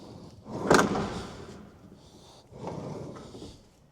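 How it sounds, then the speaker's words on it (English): A Ford Transit Custom van's sliding door fails to lock, giving a loud, close clunk and rattle followed by a second, softer thud a couple of seconds later, with no voices. "sliding door is not locking"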